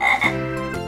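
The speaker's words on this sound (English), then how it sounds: "and the frog goes." Electronic frog croaking played by a toddler's toy house, a loud close tonal croak repeated twice in quick succession, with no talking.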